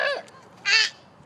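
Two short, harsh cawing calls from a bird sound outdoors, close by and moderately loud, with a brief pause between them.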